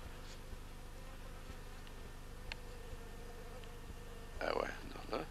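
Honey bees buzzing around a queen cage during queen marking, a faint steady hum with a louder burst near the end, voices speaking briefly over it.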